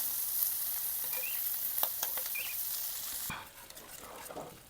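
Prawns and speck sizzle in a hot pan as they are tossed around, a bright steady fry with scattered light clicks and a louder scrape before the sizzle eases and quiets.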